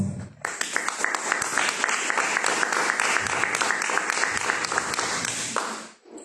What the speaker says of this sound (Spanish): Vamos a recibirlo con fuertes aplausos a Hernán Rodríguez, por favor.